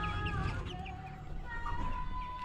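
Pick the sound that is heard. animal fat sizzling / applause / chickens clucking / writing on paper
chickens clucking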